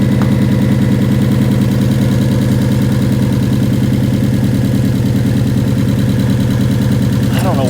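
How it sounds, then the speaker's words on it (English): A Mercedes GLE 450 with a suspected misfire idles steadily and close by, giving a smooth, continuous low rumble throughout. "it's one of the best, smoothest idling engines I've ever seen with a misfire"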